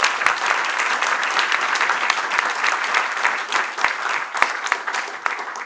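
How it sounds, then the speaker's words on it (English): A conference audience applauds its speakers, with sustained dense clapping, a few sharper claps standing out, steady and fairly loud throughout. "Please join me in a big applause to all our speakers here."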